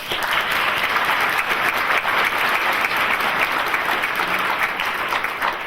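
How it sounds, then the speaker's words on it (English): Audience applause at a Navy medical laboratory technician graduation ceremony, a dense, even roar of many hands clapping that holds steady and loud throughout, alone without speech. "Give them a round of applause."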